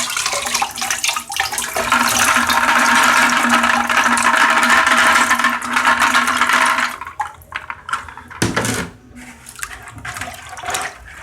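Aquarium filter bio balls and a coarse filter pad are rinsed under a running tap, a steady loud gush of water for about seven seconds, then the flow stops, leaving a few splashes and handling noises.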